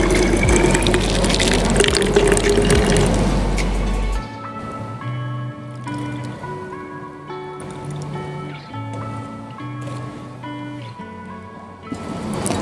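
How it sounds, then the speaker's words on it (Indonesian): Water, 500 ml of it, is poured into a bottle to make a flower preservative solution for chrysanthemums. It makes a steady, close rushing splash for about four seconds before stopping, and light music plays afterward. "ini tinggal kita tambahkan juga dengan air sebanyak"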